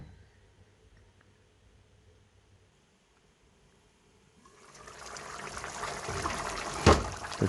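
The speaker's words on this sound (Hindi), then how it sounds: "हम इसके अंदर 3 गिलास पानी ऐड करेंगे" Water pours into a pot of cooking mutton for mutton chops, starting after a quiet stretch and building into a close, steady gushing rush that grows louder toward the end.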